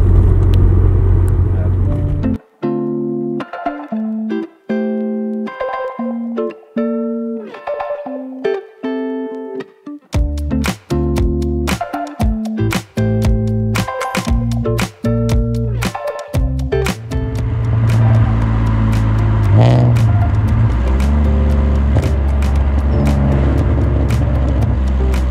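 An Alfa Romeo 147/156 GTA with a Busso V6 engine runs loud and close, a deep steady engine rumble with tonal whine, heard beneath frequent talking.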